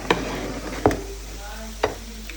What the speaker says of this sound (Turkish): Burada e, patates kızartıyorum